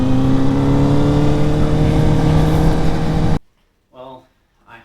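CFMOTO 500SR Voom four-cylinder motorcycle engine held at a loud, high-pitched steady rev for over three seconds, then cutting off abruptly to near silence with a brief voice afterward.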